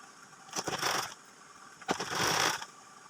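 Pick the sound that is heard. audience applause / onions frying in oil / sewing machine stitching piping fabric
sewing machine stitching piping fabric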